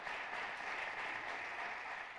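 Faint, distant applause fills the hall of the Palacio de Bellas Artes as actress Rosenda Monteros receives the Medalla Bellas Artes, a smooth continuous wash of clapping at low volume.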